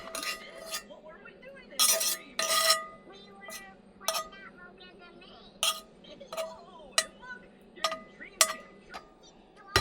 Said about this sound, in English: The fat that I'm going to be using is beef tallow. I'm just going to go right in the pan.